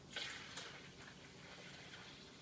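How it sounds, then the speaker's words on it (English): Milk poured into a container for making yogurt: a steady liquid pour runs throughout, a soft continuous splashing stream with a couple of brief brighter splashes near the start. "just pour in the rest of the milk"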